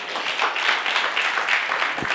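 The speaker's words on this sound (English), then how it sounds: "Should we give him a round of applause?" Audience applause for a speaker at a Wednesday Fellowship gathering: steady, dense clapping from a roomful of people, moderately loud and continuous throughout.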